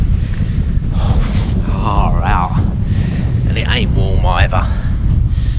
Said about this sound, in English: We was told that it's very, very windy.